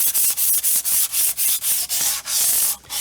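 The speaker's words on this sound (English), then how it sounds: "I'm going to sand down the primer on these drawers with a used 220 sanding sheet" Used 220-grit sandpaper rubbing over primed wooden drawers, a close, loud run of quick, even rasping strokes with a steady back-and-forth rhythm and no voices.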